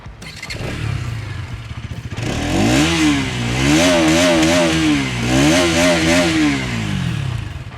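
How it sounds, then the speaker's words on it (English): A Bajaj Pulsar NS 200 with an underbelly exhaust idles with a rattly note, then is revved hard in repeated rising and falling sweeps that roar loudly up close. "the 200NS gets an underbelly exhaust, and the sound of this exhaust is really good."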